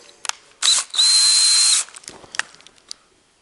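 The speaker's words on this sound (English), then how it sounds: "we're essentially going to drill" A power drill whirs in two short bursts, drilling pilot holes through a chest freezer for a kegerator, the second burst longer and steady, with light clicks and handling noises before and after.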